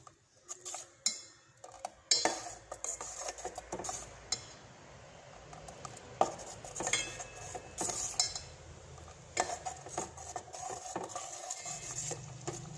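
A spoon scrapes and clinks against a pan while pineapple and jaggery payasam is stirred, giving irregular metallic taps and scraping strokes throughout at close range.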